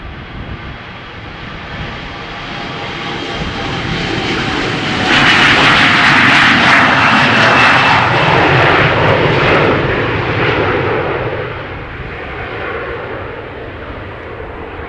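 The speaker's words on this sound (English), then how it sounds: "the two heavies that are taxiing towards the runway threshold in the background" Two heavy jet airliners taxi toward the runway threshold at Amsterdam Schiphol Airport, a continuous broad engine roar that swells in the middle and then eases off, sounding at a moderate distance with no voices.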